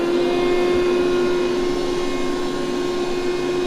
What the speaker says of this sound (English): Connect the power, then turn the switch to inflation.